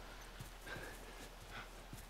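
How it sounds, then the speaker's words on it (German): Horse in The Last of Us moving with faint, scattered hoofbeats and soft snorting sounds against quiet game ambience, low in level. "Ich glaube, ich habe das Pferd schnauben gehört."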